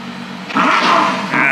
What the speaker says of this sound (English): now you've revved it